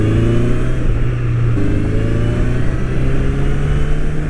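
Honda CB1100 air-cooled 1100cc four-cylinder motorcycle engine on a winding road at around 3,000–4,000 rpm: a steady, loud, close drone with smooth harmonics that shift slightly partway through, no talk.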